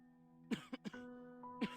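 A character in the game Natsuki's Life in Prison gives several quick, soft coughs in a small cluster over a sustained tonal background, then one more cough a moment later.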